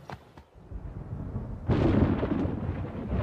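Thunder from a storm gathering over Botswana: a deep rumble builds, then a louder rolling crack breaks in and sustains, heavy and fairly close, with no voices.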